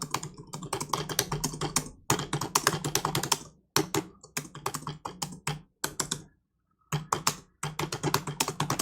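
Rapid clattering keystrokes on a computer keyboard, close and crisp, in bursts of fast typing separated by short pauses, with no voices.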